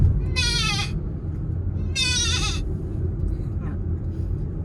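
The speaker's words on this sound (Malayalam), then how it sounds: "അപ്പം അത് കുഞ്ഞാടാകുമ്പോൾ കുറച്ച് സൗണ്ട് കുറയും." A young goat kid gives two short, quavering bleats a second apart, followed by a faint third cry, over a steady low background rumble.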